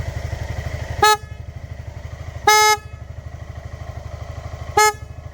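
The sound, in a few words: motorcycle horn honking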